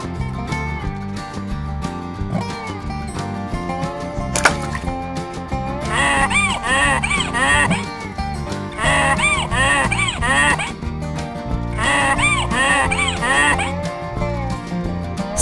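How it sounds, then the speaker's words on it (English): A donkey brays three times, each loud, harsh hee-haw separated by a pause, over light background music. "Donkey, donkey."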